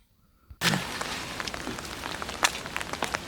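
Rain falls steadily on a school farm plot with crops, starting abruptly and continuing as a dense patter with scattered louder drops, close by.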